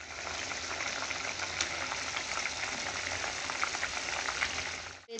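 Taro leaf curry on a stovetop burner makes a steady, close bubbling sizzle, dense and even throughout with no voices.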